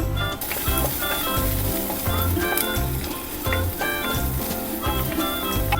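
Curry leaves, crushed garlic and ginger sauté in hot oil in a pan, giving a steady close sizzle with rhythmic stirring scrapes and faint music underneath.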